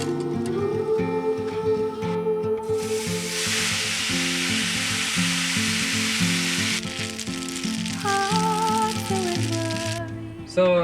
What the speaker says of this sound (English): So I tried to make some brown butter pasta with garlic